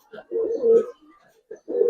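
Giribaz coloring pigeons give deep, rolling coos in two or three bursts with short gaps between, close and fairly loud against a quiet background.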